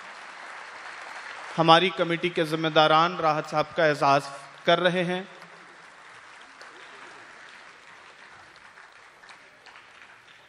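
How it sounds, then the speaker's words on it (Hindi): Faint, distant audience applause fills a hall at an Urdu conference, running under a man's amplified announcement and continuing softly for several seconds after he stops. "आप अगर सुनना चाहते हैं राहत साहब को तो जोरदार तालियां होनी चाहिए"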